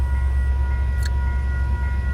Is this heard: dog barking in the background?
no